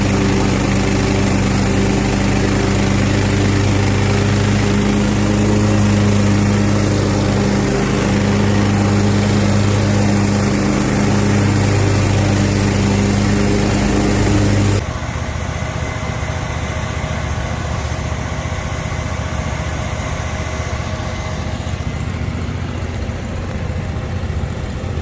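A lawn mower runs loud and close on a perimeter pass, a steady droning engine that suddenly falls to a quieter, thinner hum for the last stretch of its run.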